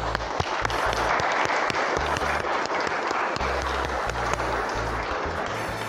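A crowd at a carnival event claps for a newly crowned queen as she turns, a busy wash of clapping running steadily throughout, over low rumbling sounds in the background.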